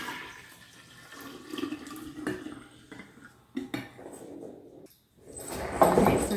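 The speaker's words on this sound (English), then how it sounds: "we're gonna pour the iced tea into the jar" Iced tea for kombucha is poured into a glass jar, with faint clinks and handling knocks followed by a louder gush of liquid near the end, close by and with no talk.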